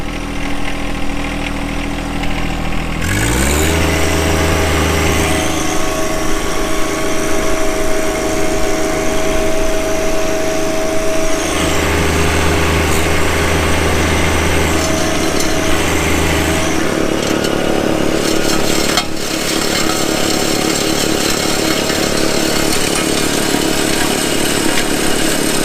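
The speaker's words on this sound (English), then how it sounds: "Let's do some snow blowing." A John Deere 1025R compact tractor with a front snowblower runs steadily, a loud continuous engine drone that shifts pitch as revs change, with deeper chugging stretches and a rising whine partway through, no voices over it.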